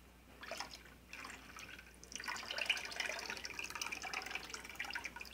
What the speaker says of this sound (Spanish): Vamos a echar la leche.